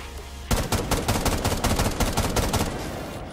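Gunfire in the video game Rainbow Six Siege, a rapid burst of a dozen or so sharp shots, loud and close, starting abruptly and rattling on for about two seconds before the sound trails off.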